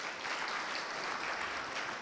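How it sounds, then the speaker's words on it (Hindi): Schoolchildren at a government school in Rajsamand clap together in steady, dense applause, a bright crackling patter that holds at an even level for a couple of seconds. "ताली बजाओ"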